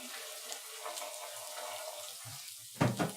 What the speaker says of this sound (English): I'm just going to do a quick drain.